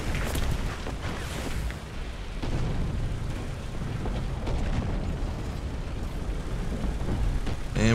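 Tank smoke grenades launching in War Thunder ground battle: a dense, continuous roar of bursts and booms with sharp pops, loud and close, filling the scene without a break.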